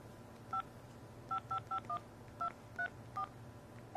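Phone keypad tones beep as a phone number is punched in: about nine short, clear electronic beeps in an irregular rhythm, close and distinct over a low steady background hum.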